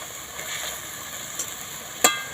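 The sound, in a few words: stirring pointed gourd masala in a frying pan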